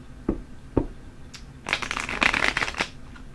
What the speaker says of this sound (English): I'm trying to get a good shuffle on these.